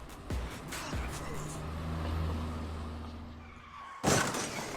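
Crash from a music video scene set around a school bus: tires skid, then a sharp shattering impact lands near the end, over engine drone and background music.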